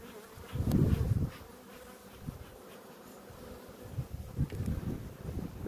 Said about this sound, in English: There's some bees in there.